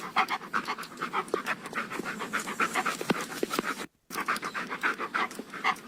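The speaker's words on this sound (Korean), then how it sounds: "강아지가 걸을 때 나는 숨소리와 가벼운 발걸음 소리 같은 게 지금 들리고 있어요" AI-generated dog panting, rapid and rhythmic up close, breathy bursts repeating throughout with soft light footsteps, broken by a brief silent gap.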